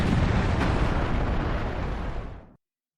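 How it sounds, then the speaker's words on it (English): A Craftopia video game explosion: a dense, roaring blast that fills the sound from start to finish, holds at full loudness for about two seconds, then fades slightly and cuts off abruptly to silence. "Kaboom."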